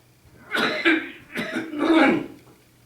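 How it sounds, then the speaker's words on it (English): A person coughs close to the microphone, three rough bursts in quick succession with a throat-clearing quality, otherwise quiet. "my cough is produced by dust probably"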